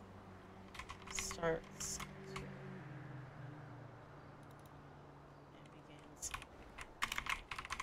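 Soft typing on a computer keyboard in scattered bursts of key clicks, with a brief spoken word and some low murmuring near the start, over a faint background hum.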